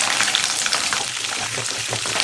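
Mustard seeds, urad dal, chana dal and green chili crackling in hot oil, a dense, loud, steady sizzle heard up close with faint stirring underneath.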